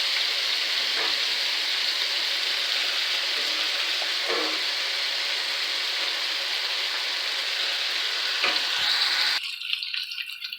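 Pasta sizzles in hot oil in a pan, a steady, dense crackling hiss with a few louder spits and stirring scrapes, running unbroken until the frying quiets near the end; no one speaks.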